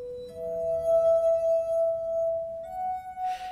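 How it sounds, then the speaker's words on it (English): Water-tuned drinking glasses sung by a finger rubbing around the rims give a steady, pure ringing tone that holds for about three seconds, then steps up slightly to a second pitch, played alone and close. "tuning the glasses using water, and then of playing them by rubbing a finger gently around the rim"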